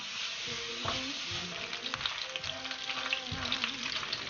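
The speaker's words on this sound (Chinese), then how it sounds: "把肉放在锅中，不用加食用油，煸炒出里面的油脂" Chunks of meat stir-fry in a wok with no added oil as their fat renders out. A steady, close sizzle runs throughout, broken by repeated scraping and stirring strokes, with no voices.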